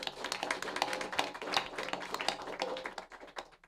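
An audience applauds a hosting venue at an evening venture capital panel event, a steady dense patter of many hands clapping that fades out near the end.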